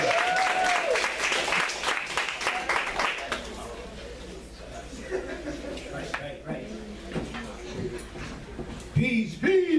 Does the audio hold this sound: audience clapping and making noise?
yes